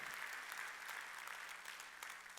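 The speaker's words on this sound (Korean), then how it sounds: "박수." A church congregation at a Sunday worship service claps together in steady, continuous applause, soft and somewhat distant, with no talking over it.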